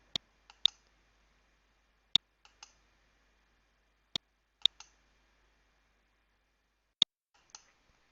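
A computer mouse clicks sharply and alone in small clusters of two or three, with pauses of about two seconds between groups, close and crisp against near silence.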